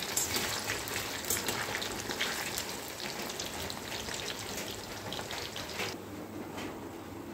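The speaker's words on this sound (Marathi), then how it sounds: "आता दुसरी बॅच आपण फ्राय करून घेऊया." Second batch of food frying in hot oil, a steady crackling sizzle with dense popping that continues evenly throughout, fairly faint and without voices.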